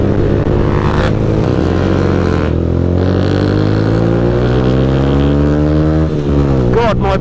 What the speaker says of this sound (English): God, my bike sounds amazing.